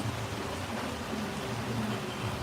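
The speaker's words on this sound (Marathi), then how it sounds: "बघा कसा पाऊस येतोय" Steady rain pours down in a dense, even hiss with no breaks, fairly close and moderately loud, with no voices.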